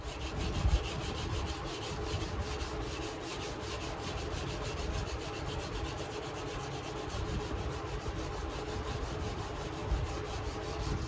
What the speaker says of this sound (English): I'm going to get to work hand sanding out this blade